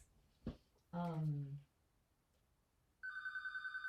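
A mobile phone rings with a steady electronic ringtone pulsing in a repeating pattern, starting after a short thump and a brief vocal sound from a nearby person.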